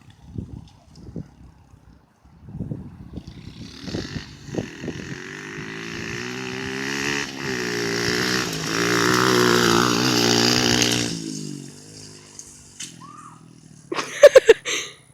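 Dirt bike engine heard from a distance, quiet popping at first, then a rising, droning buzz as the bike revs and passes before fading, with a few sharp clatters near the end.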